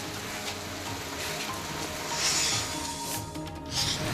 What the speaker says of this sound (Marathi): पुण्यातल्या अनेक भागात जोरदार पाऊस झाला